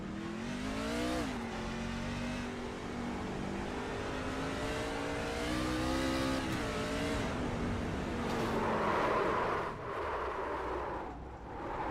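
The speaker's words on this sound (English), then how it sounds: "Just listen to this throttle." A race truck engine at full throttle leaving pit road at Rockingham, heard as a loud, continuous roar that rises in pitch through the gears with brief drops at each shift, close and steady with no talk over it.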